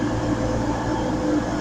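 A CrossCountry train bound for Plymouth rumbles steadily through Durham station, a loud, continuous, close rolling roar of wheels and carriages with no voices.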